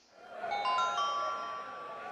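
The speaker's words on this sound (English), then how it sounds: "let me sound the bell" A wrestling ring bell from the Fire Pro Wrestling World video game rings once with a clear metallic tone that swells quickly and then holds, slowly fading and ringing on to the end.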